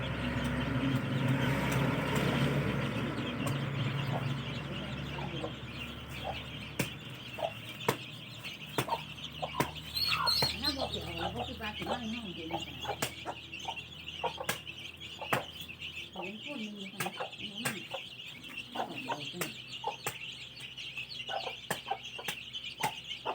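Young chicks and hens cluck and peep steadily while being fed termites outdoors, with close, repeated short calls over a constant background hum.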